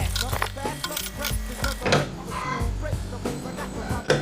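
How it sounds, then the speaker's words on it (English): Screws on a table are tightened with pliers. The result is a series of close, uneven metallic clicks, scrapes and creaks in short bursts, with some voice sounds mixed in. "It's working with the pliers."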